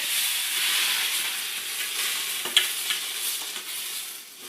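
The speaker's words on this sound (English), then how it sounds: "So it's time for the beef to go in." Beef fries in a pan with a loud, steady close-up sizzle and a few light clicks of stirring, with no talking.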